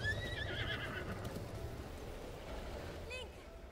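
A horse whinnies in the Zelda Breath of the Wild video game, a faint neigh with hoof clip-clops over quiet wind and ambient game sound.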